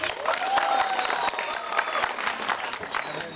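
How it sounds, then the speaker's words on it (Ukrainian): Applause from an audience at a summer camp show, a steady patter of many hands clapping at moderate volume, with a faint whistle-like tone near the start. "Наша Фірчук е, Тетяна Євгенівна, ваші оплески."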